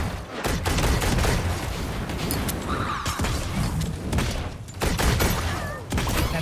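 Rapid bursts of gunfire from the video game Realm Royale crack repeatedly in loud clusters, overlapping with in-game impacts and mechanical clatter.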